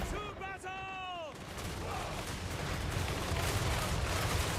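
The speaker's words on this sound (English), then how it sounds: "Look at all that gunfire." Gunfire from Nuln troops in the video game Warhammer 3 Total War crackles as a dense, continuous volley of distant shots, steady and loud throughout, with a brief tonal game sound at the start.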